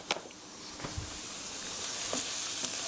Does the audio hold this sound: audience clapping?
no